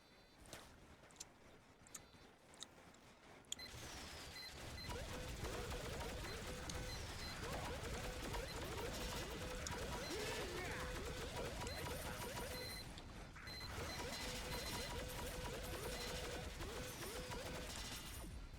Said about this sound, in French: On dirait les tourelles, elles tirent toutes seules